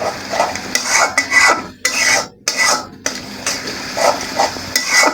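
A spoon scrapes and rasps against a pan while ginger-garlic paste and garam masala paste are stirred in, giving repeated close scraping strokes with brief pauses and no talking.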